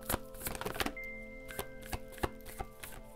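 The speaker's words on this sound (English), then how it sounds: "Why am I still shuffling?" Tarot cards shuffled by hand, giving clustered papery riffles and snaps in irregular bursts, fairly close, over a steady background of soft musical tones.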